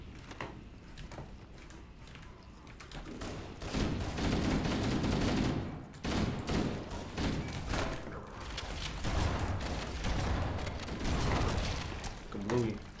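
Repeated shotgun blasts from Halo: Combat Evolved, heavy booming reports in an irregular string with thuds and clanking in between, loud and close, with some talking mixed in.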